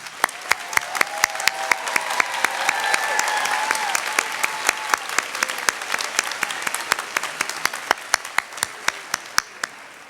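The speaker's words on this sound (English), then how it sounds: "Please give these graduates a round of applause." An audience at a nursing pinning ceremony applauds graduates, a steady wash of many hands clapping in a hall with sharp nearby claps standing out rhythmically throughout.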